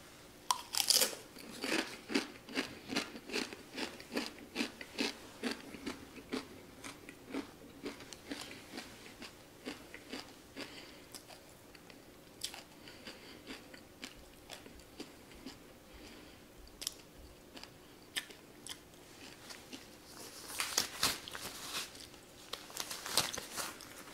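Someone bites and chews a spicy Paqui One Chip Challenge chip up close. Loud crunches come in rapid bursts at first and again near the end, with quieter chewing in between.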